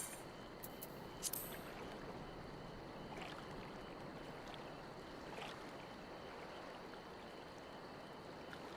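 Ocean waves and the gentle sway of a boat in Final Fantasy XIV Stormblood, a faint, continuous wash of water and soft swell, with a few light creaks and splashes near the start.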